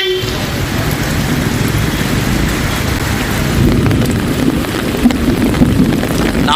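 Heavy rain pours across parts of Nagapattinam district in Tamil Nadu, a dense, steady roar of downpour that holds at an even loud level throughout, with no voices.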